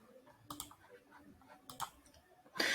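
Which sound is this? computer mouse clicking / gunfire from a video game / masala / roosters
computer mouse clicking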